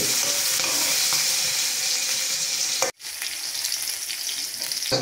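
Chopped onions fry in a pan for noodles, a loud, dense sizzle with occasional stirring scrapes; after a brief cut, the frying continues slightly quieter, with no voices.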